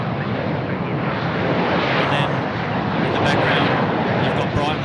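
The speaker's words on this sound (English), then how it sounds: "Velocity aircraft just coming in." A Velocity aircraft comes in to land on the runway at Sydney Airport, a steady, loud broadband jet roar that holds throughout and swells slightly toward the end.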